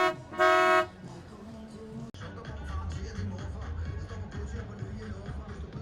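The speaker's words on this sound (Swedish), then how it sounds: "Får passa på att använda min tuta lite," A sailboat's horn gives one short, loud, tonal toot near the start while the boat approaches an opening bridge in Denmark. A steady low motor rumble with wind and water noise continues afterward.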